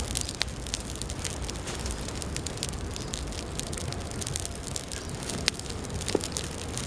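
A small campfire of gathered twigs and branch pieces, lit with a flint and steel kit in Atlantic Forest woodland, crackles and snaps with scattered sharp pops over a soft steady hiss.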